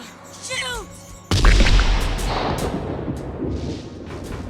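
Gunfire in a Terminator 2 film scene: after a shout and a whistling tone, a sudden heavy blast erupts and rolls into a long, loud booming rumble with further hits.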